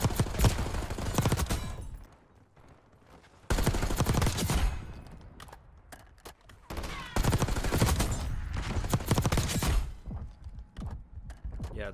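Bursts of AR rifle fire from a video game arrive in three main volleys separated by short quiet gaps, each a dense, loud rattle of rapid shots.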